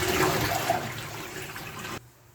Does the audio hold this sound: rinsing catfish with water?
yes